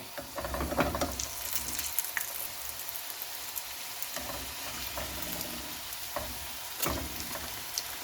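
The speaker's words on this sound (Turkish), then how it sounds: "2 tane çiğ böreği aynı tavada güzelce kızartıyorum." Two potato-filled çiğ börek frying together in one pan: a dense, crackling sizzle close up, with occasional clatter and scraping as the pastries are moved, and no voices.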